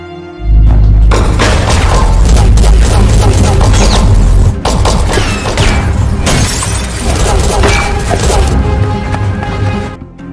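Gunfire and crashing impacts erupt in a film shootout, with loud booming thuds and sharp bursts packed densely for about ten seconds, a brief break midway, over a heavy low rumble.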